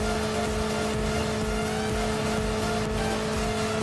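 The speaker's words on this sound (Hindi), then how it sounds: "मैं सेफ जोन की तरफ बाइक लेकर चल दिया।" A motorbike engine drones steadily while the bike is ridden in the mobile battle royale game Call of Duty Mobile, holding a constant loud revving tone throughout.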